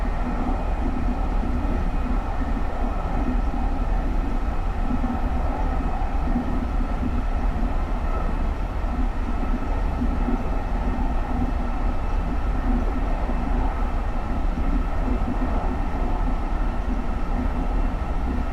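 A SEPTA GE Silverliner IV electric commuter train on the Trenton Line in Train Simulator 2019 runs steadily, a continuous loud rumble and hum of wheels and motors with no pauses, no voices.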